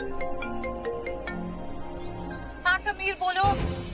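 A phone's ringtone plays in a repeated melodic pattern for a couple of seconds amid traffic noise in a Hindi TV drama, followed by a voice answering the call.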